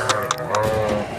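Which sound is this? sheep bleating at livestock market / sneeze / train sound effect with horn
sheep bleating at livestock market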